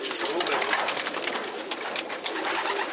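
Racing pigeons coo softly in a loft, the low murmuring calls blending with rustling and nearby people talking over them.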